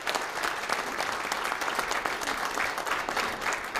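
A lecture audience at a Busan political academy claps in a steady, even burst to welcome a former National Assembly speaker to the podium, the applause fairly soft and continuous.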